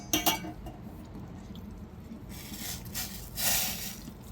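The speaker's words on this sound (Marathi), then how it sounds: "मी इथे साईडला पाणी गरम करायला ठेवलेलं होतं, ते आता आपण इथे घालून घेऊया" Hot water pours steadily into a pan of masoor masala in a couple of hissing, splashy bursts, after a few light clinks of cookware.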